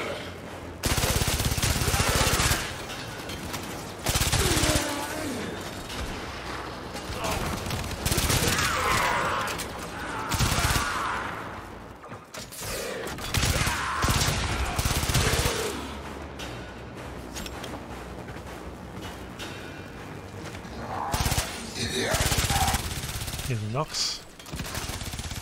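Baza Prime weapon gunfire in the shooter Warframe: rapid machine-gun bursts in repeated loud clusters against enemies, with whooshes and mechanical clatter between volleys, interrupted by brief pauses over a long stretch.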